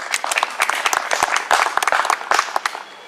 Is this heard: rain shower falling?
no